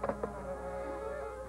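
Insects buzzing as a sound effect in the horror film The Wasp Woman, a steady, close, droning hum that holds without a break and has no talk over it.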